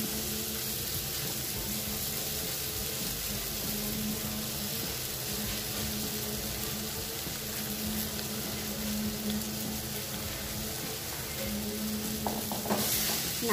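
Paneer pieces being stirred into a sizzling curry in a pan, a steady frying hiss with soft scraping of the spoon throughout, fairly close and continuous, with a brief clatter near the end.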